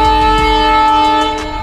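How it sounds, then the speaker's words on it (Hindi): Train horn sounding steadily at Badarpur Junction railway station, a loud sustained tonal blast that holds for over a second before easing slightly, with station ambience beneath. "ये साल्टिंग के लिए हॉर्न बज रहा है।"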